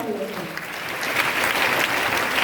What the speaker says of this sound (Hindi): वाह, एक जोरदार ताली होना चाहिए।